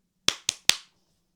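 Three sharp hand claps ring out in quick even succession, loud and close, with a short decay after each and silence around them.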